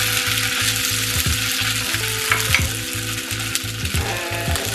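Soyrizo, a soy-based vegetarian chorizo, frying in a pan for breakfast tacos, with a loud, continuous close sizzle and occasional stirring scrapes, no voices.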